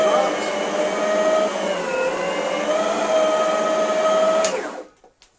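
A Sebo Duo Dry carpet cleaning machine motor whines loudly and steadily on carpet, its pitch dipping slightly midway, then cuts off abruptly near the end.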